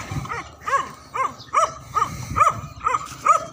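A domestic duck quacks in a steady series of about eight loud, nasal calls, evenly spaced and close by, over faint background noise.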